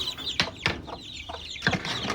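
Chickens and chicks on a poultry farm give a few loud, close clucks and squawks in an irregular rhythm. Softer cheeping and rustling fill the gaps, with no talk.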